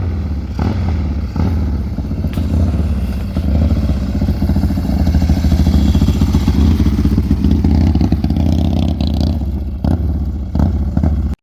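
A 1998 Harley-Davidson Softail with a carburetor fuel-delivery problem runs loud and close, its engine roaring continuously with rough surges and uneven dips as it stumbles, with no voices over it.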